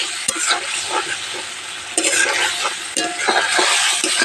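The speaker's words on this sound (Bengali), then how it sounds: "মশলাটা এবার আমি একটু কষিয়ে নেব।" A spice masala being sautéed in a pan sizzles loudly and continuously as a utensil scrapes and stirs in repeated strokes, close up and with no one talking.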